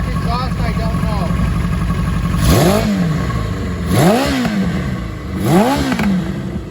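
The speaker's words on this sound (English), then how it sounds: "This is a good runner motor." A 1982 Kawasaki KZ550 LTD motorcycle engine idles close by with a loud, steady rumble, blipped up three times in sharp revs that rise and fall back to idle.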